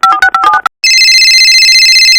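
A telephone signals an incoming call with a quick, loud run of melodic electronic beeps, then a brief gap and a sustained bright ringing tone.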